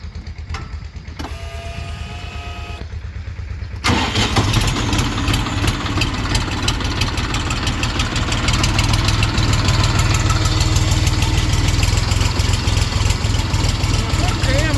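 Xintai Scout six-speed tractor engine running steadily and fairly quietly, a continuous low mechanical drone that grows slightly louder after a few seconds, with a voice talking briefly near the start.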